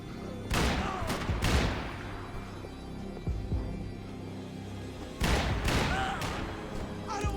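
Shotgun fire in the video game Max Payne 3: two clusters of loud, booming blasts, one near the start and another past the midpoint, with a low rumble in between.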